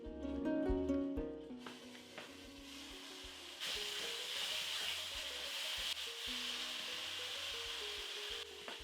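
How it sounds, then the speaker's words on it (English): Tomato and onion masala base simmers in a loosely covered pot, a steady close sizzle and gentle bubbling with faint stirring scrapes, preceded by a brief musical tone and no talking. "I will loosely cover this and just leave it to bubble away."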